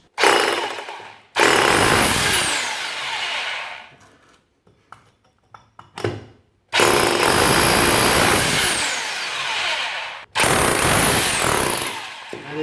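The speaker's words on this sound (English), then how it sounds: "And let's continue drilling" A Parkside hammer drill bores into bricks in three long, loud bursts of rattling, hammering roar, with short quiet gaps and small knocks between them.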